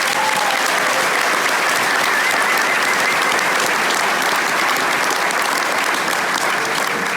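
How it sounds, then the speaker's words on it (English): A large outdoor crowd gathered near woods on a family homestead claps steadily and loudly for the full duration, a dense continuous wash of applause with no gaps. "So give yourselves a round of applause."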